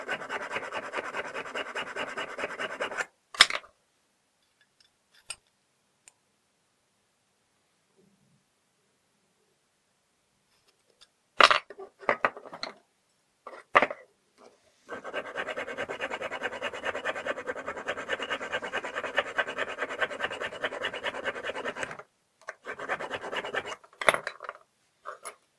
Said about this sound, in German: Schlüsselfeilen